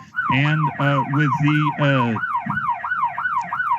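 An alarm siren wails in repeated rising and falling sweeps, loud and close. A voice speaks over the first few cycles before the siren carries on alone.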